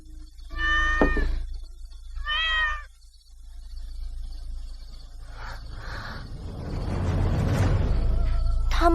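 Two newborn kittens meowing in a quiet room, a few high, thin, wavering cries in separate bursts, close by, followed by softer rustling and a rising noisy shuffle.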